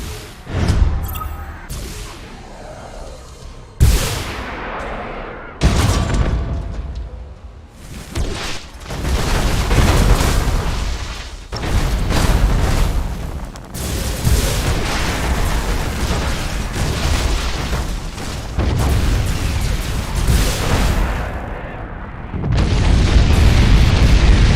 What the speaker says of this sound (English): Tell them to detonate the mines. That explosion should clean our tails of these traitors.